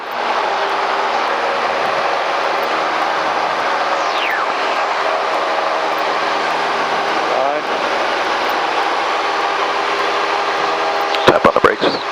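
A light airplane's engine roars steadily at full throttle during the takeoff roll, loud and continuous, with tonal hum and a brief rattling burst near the end.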